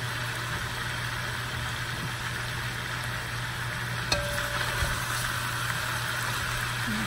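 Red, yellow and orange bell peppers sizzle steadily in a frying pan as they are stirred in, a constant broadband hiss with a low steady hum underneath and a brief clink partway through.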